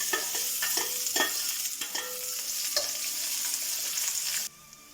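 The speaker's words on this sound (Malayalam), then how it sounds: "ഇതിലേക്ക് നമുക്ക് ഉള്ളി കൊടുക്കാം" Onion sizzles in a pan of mustard seeds and is stirred with repeated scraping strokes over a steady frying hiss, which drops abruptly near the end.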